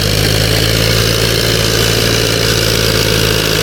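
A tractor engine idles steadily on a rough track while the way is being cleared for it to climb, giving a loud, close, even rumble with no speech.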